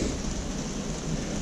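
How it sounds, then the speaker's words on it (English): Heavy rain pouring down steadily with a low rumble of thunder beneath it during a thunderstorm, a dense, continuous hiss filling the short stretch with no voices. "He's a bit scared of the thunder."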